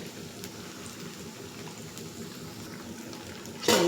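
Garelu, lentil vadas made from leftover rice, frying in hot oil: a steady, even crackle and bubbling sizzle at moderate level throughout, with a brief louder burst near the end.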